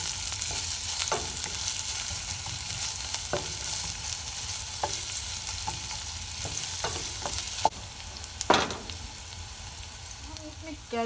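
Onions fry in hot oil for vegetable spring roll filling, a continuous sizzle broken by periodic spatula scrapes and taps, with a sharper knock near the end.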